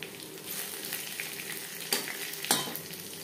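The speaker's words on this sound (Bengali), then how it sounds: "মাছ ভেজে নেওয়া তেলে ফোড়নে দিয়ে দেব তেজপাতা" Bay leaf and panch phoron sizzling in hot oil left from frying fish, a steady close crackle with two sharper spoon strikes near the end, no voices.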